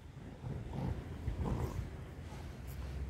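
Low, throaty growling from a pit bull, a sustained close rumble that swells in uneven surges over a few seconds, with no voices over it.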